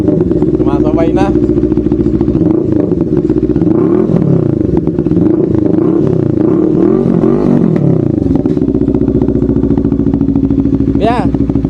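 A loud, close NK400 motorcycle engine running steadily and revving in repeated surges, with a voice faintly audible over the engine noise.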